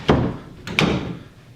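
An interior door swings shut onto a newly installed ball catch, giving one dull knock followed by a quick double click-thud as the latch seats, close by with no voices.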